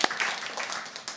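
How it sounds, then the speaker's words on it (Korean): A church congregation breaking into brief applause, a short burst of clapping that carries on evenly for about a second. "박수 한번 칩시다."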